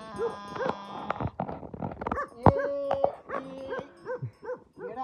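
A herders' dog near a flock of sheep whimpers and whines in rising, wavering cries with rougher growly bursts between them. The sounds are close and uneven, with several short outbursts and one longer drawn-out whine.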